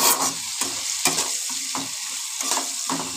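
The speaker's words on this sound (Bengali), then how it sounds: "ভেজে নিচ্ছি চীনাবাদামটা।" Peanuts frying in a pan crackle and sizzle close up, broken by repeated sharp scrapes of stirring at an uneven rhythm, with no voices.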